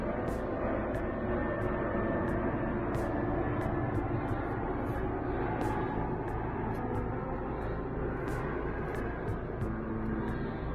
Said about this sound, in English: There's an airplane about to go over it.